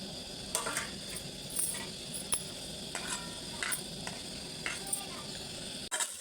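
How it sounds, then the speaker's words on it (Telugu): Small pieces of paneer fry in a little oil, giving a steady, moderately quiet sizzle with occasional light stirring clicks and scrapes, while someone talks over it. "పన్నీర్ ఏమో ఇలా చిన్న చిన్న పీసెస్ లెక్క చేసుకొని వేయించుకోవాలి"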